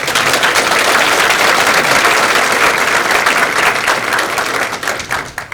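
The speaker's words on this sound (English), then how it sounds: "Let's give them a nice round of applause." A dinner audience at a county youth awards event in a golf club banquet room gives a full round of applause for the sheriff's cadets, even and sustained, tapering off near the end.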